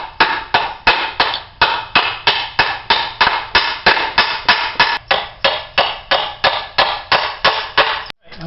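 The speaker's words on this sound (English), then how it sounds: "we got ourselves a box of common nails here. We're just going to hammer this together." Hammer blows drive common nails into wooden basement shelf boards, a loud, close, steady series of about twenty sharp strikes at an even rhythm, briefly broken by a pause near the end.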